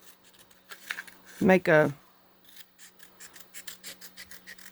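Scissors snip little paper ribbons, giving a run of quick, close crisp cuts in an even rhythm, with a brief spoken phrase partway through.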